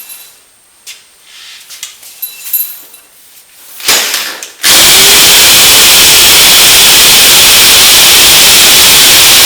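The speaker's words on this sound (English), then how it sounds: "Drill the first hole." A hammer drill bores a hole through OSB into concrete block, starting after a few scattered knocks and handling sounds, then roaring loud and continuous for about five seconds to the end.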